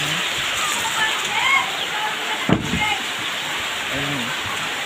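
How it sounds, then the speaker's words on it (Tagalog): Steady, dense rush of heavy rain with constant broadband hiss, a brief louder splash midway, and faint voices underneath. "Grabe nga ulan."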